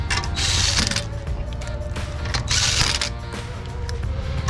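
Air impact wrench running lug nuts onto a car wheel during an oil change and tire job, two loud rattling bursts of hammering with a short gap between them, close by, over a steady low mechanical hum.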